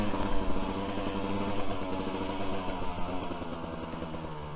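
A Kove 450 Rally motorcycle engine riding through desert terrain, a steady close drone with slight rhythmic pulsing and modest throttle variation, loud and continuous with no voices.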